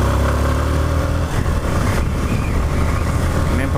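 A Yamaha Fazer 250 motorcycle engine runs close by, a steady low droning hum with a slight rise in pitch near the end, no voices.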